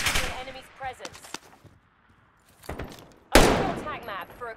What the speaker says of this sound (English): Gunfire will alert you to an enemy's presence.